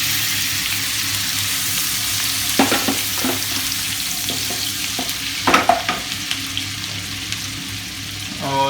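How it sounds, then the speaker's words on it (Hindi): Chopped onions fry in hot oil in a pan that has just been used for eggs, giving a steady close sizzle with occasional scraping and stirring clatter. "इसी ऑयल के अंदर हम सबसे पहले प्याज ऐड करेंगे और इसको थोड़ी देर के लिए फ्राई करेंगे प्याज को"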